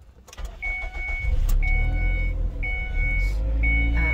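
A car engine starts and then idles steadily, a low continuous rumble, while a repeating high electronic beep chimes several times over it.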